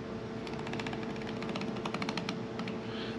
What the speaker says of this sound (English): that's just my knife kind of bouncing off where the bones are